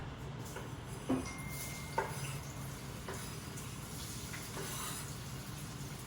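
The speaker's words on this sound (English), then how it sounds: "I'm going to add the onions to that" Onions sauté in about three tablespoons of hot vegetable oil in a pan, giving a steady quiet sizzle and hiss, broken by a few light clicks and scrapes of stirring.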